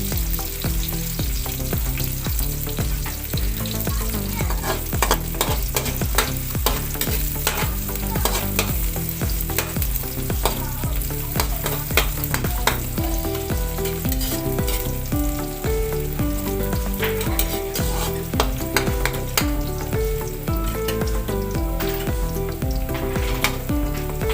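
Steady, loud sizzling of onions and garlic frying in a pan for pork asado, with stirring scrapes throughout and no talking.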